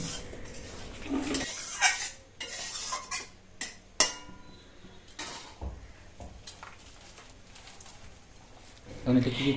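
A spoon stirs a soybean curry with whole garlic cloves in a metal pan, sounding as repeated clanks and scrapes with pauses between strokes.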